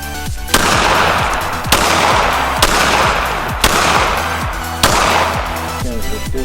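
Pistol shots at an outdoor shooting range: five sharp, loud reports spaced about a second apart, each with a ringing decay, close to the listener.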